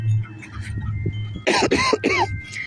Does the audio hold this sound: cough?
yes